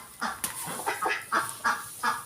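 Turkey hens in a nesting area where they are laying eggs give a series of about six short, nasal clucking calls at a steady rhythm, fairly close and moderately loud.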